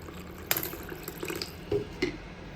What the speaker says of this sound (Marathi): अजून थोडंसं पाणी घालूया आपण ह्याच्यामध्ये.